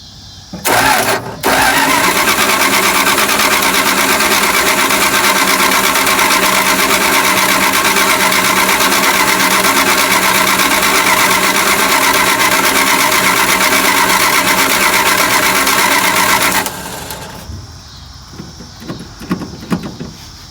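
A Dodge D600 truck engine runs after a carburetor rebuild, starting abruptly and holding a loud, steady idle close by for about sixteen seconds before cutting off into quieter rustling.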